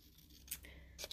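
Scissors snip black cardstock close up, two quiet crisp cuts spaced about half a second apart over faint background hiss.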